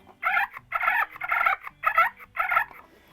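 A hand-operated turkey call produces a series of five rolling purrs, each short and raspy, spaced evenly and heard up close, clear and alone.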